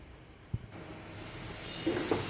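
Raw green banana pieces fry with turmeric and salt in a pan, giving a steady soft sizzle that grows louder and brighter toward the end, with a few brief stirring clinks.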